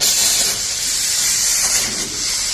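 An SP Stainless Design stainless foam sprayer tank blasts foam in a loud, continuous, close-up hiss that stays steady for the whole stretch, with no voices.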